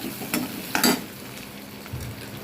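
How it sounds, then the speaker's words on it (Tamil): Onion fries in oil for a tomato and mint chutney, giving a steady close sizzle broken by a few spoon scrapes and stirring clinks, with no speech. "அதே எண்ணெயில் போட்டு வெங்காயத்தை போட்டு நல்லா வதக்கி விட்டுருங்க"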